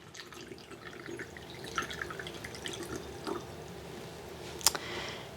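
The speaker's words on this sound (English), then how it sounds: "I'm going to pour my water into my spray bottle here." Water trickles and drips into a small spray bottle nearby, soft and uneven, with occasional light splashes and a brief clink near the end.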